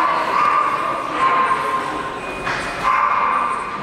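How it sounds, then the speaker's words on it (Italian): A dog barks repeatedly somewhere in Bogotá, Colombia, its yaps fairly distant and blended into a steady hum of city background noise. "Non potevo scegliere un momento migliore col cane, anche che abbaia"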